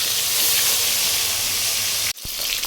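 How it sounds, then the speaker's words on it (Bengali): Fish pieces rubbed with salt and turmeric frying lightly in hot oil, giving a loud, dense, continuous hiss of spattering that cuts off abruptly near the end and then resumes. "এবার তেল গরম করে হালকাভাবে মাছগুলোকে ভেজে নেব।"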